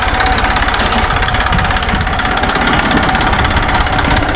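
Tractor engine idling with the bonnet open, a loud, steady low rumble with a constant chugging vibration and no change in pace.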